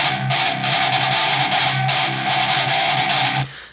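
Heavily distorted electric guitar with the 750 Hz midrange boosted by EQ, strummed in a chugging rhythm of repeated chords, loud and close, cutting off abruptly at the end.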